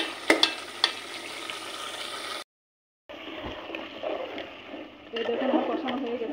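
Beef trimmings are stir-fried in a pan with continuous scraping and sizzling. The sound stops briefly partway through, then returns with livelier stirring toward the end.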